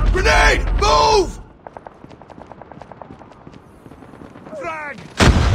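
In a Call of Duty match, two loud shouted voice calls frame a stretch of quick sharp gunfire cracks, followed by a burst of loud noise that fits a grenade explosion.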